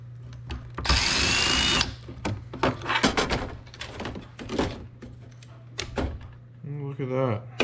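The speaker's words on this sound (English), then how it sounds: "Let's take some screws out here." A power screwdriver drives screws out of an old 8-track or cassette player with a loud one-second whir, followed by clanks and handling thuds as someone talks over the work.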